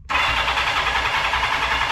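A Kawasaki KZ650F motorcycle engine that has not run for three days catches and runs loudly after a brief start, holding a steady, close, throbbing idle.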